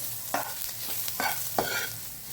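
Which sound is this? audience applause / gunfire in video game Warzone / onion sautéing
onion sautéing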